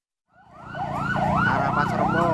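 A fire engine siren on the Jagorawi outer ring toll road in Jakarta, heading toward Pasar Rebo, wailing in rising and falling sweeps that fade in from silence and hold loud and near over steady traffic rumble.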